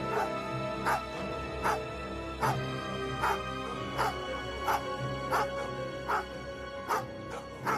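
Dogs barking and whimpering as a horror-story sound effect. Sharp yelping barks repeat in a steady rhythm about once a second over a sustained droning background, loud and close.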